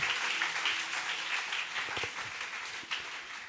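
Church congregation applauding after the reading of the word of God, a steady wash of many hands clapping that fills the whole moment without pause.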